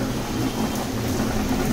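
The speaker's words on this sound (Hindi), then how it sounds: "अभी बहुत तेज़ बारिश आ रही है, बहुत तेज़।" Very heavy rain pours down steadily, a dense, loud and unbroken wash of noise without any pauses.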